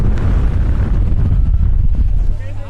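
Strong wind buffeting an outdoor microphone on a windy lookout in New Zealand, a loud, low, rumbling roar that blasts continuously and drops off briefly near the end.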